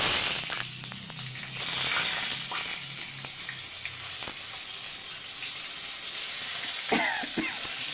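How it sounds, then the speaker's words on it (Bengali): Boiled potatoes fry with a cumin tempering in a steady, moderate sizzle, with scattered stirring clicks and scrapes against the pan and a brief louder spatter near the end. "জিরে ফোড়ন দিয়ে আমি আলুটা ছেড়ে দেব আলুটা সেদ্ধ করা কিন্তু ভাজা একটু করে নেব"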